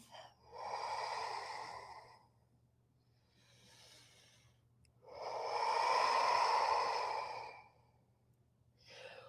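Slow, deep yoga breaths, long airy inhales and exhales in a steady cycle, close and fairly loud in a quiet room, with no talking.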